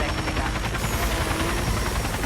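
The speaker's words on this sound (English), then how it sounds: "I do not need a chopper on my tail right now." Helicopter chasing the player in the video game The Crew, a steady loud rotor roar with engine noise throughout, continuous and close.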